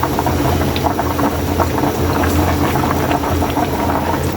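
Pork for sisig boils hard in a pot on the stove, a loud, dense and continuous bubbling that fills the whole stretch with no voices over it.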